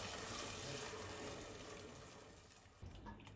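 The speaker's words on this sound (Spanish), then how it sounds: "le voy a poner el agua ya." Water poured from a pitcher into a pot of white rice on a home stove, a soft steady splashing stream that fades slightly before a brief final splash.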